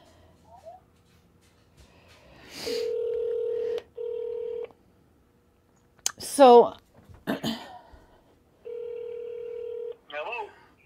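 An old-style telephone gives out dialing tones: three sustained steady beeps with pauses between them, mixed with nearby handling noises, a throat clearing and a brief spoken word.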